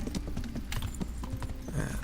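Horse hooves galloping in the video game Kingdom Come: Deliverance, a steady rapid clip-clop rhythm of thudding hoofbeats with occasional snorts, close and continuous.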